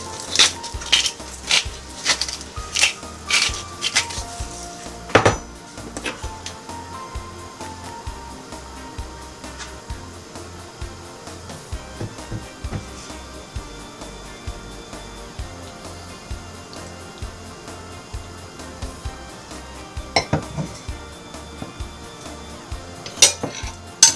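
Prawns tossed in a bowl with lemon juice, two tablespoons of olive oil and salt, giving irregular clinks and light scraping of a utensil against the dish, close up and without talk.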